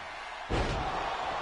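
A wrestler power slams the referee in a wrestling video game, giving one heavy thud on the mat over steady crowd noise.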